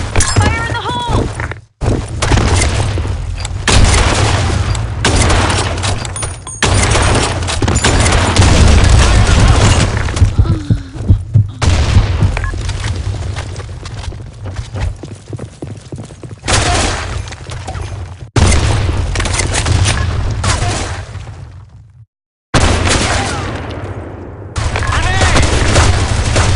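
Grenade explosions in the shooter Blackshot on the Sand Storm map come as deep booming blasts amid continuous gunfire and battle noise, loud and dense throughout, with voiced callouts over the action.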